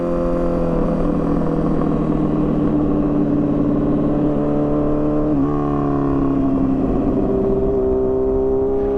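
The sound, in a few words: motorcycle engine revving, breaking up at high rpm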